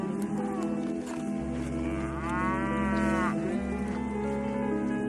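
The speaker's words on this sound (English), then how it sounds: "Today we have 60 million cattle that are populating feedlots." Cattle in a feedlot moo loudly, with one long drawn-out low call rising in the middle over a steady background drone.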